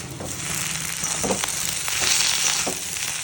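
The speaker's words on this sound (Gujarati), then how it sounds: "અને બરાબર હલાવી દેવાનું છે શાક." Raw banana sabji with spices sizzling and frying in a hot pan as it is stirred, a steady close hiss with a few soft scrapes of the spoon, no voices.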